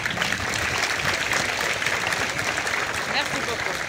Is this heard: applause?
yes